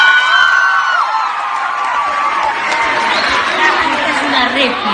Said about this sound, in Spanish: Un aplauso para Fiorella, por favor.